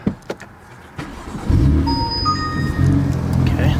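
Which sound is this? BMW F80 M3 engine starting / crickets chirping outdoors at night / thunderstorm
BMW F80 M3 engine starting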